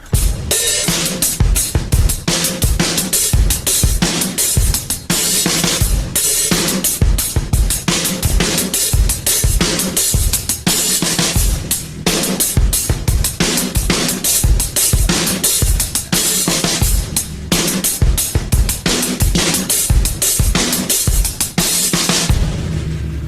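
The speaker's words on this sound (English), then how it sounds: "I'll play the pattern once again for you, both bars, very slowly, and demonstrate where we can open and close the hi-hat at specific areas" A drum kit plays a two-bar groove slowly, steady kick and snare hits with the hi-hat opened and closed at set points, loud and close with no talking.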